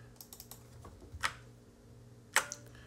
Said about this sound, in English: as soon as we click twice we press the keys on our keyboard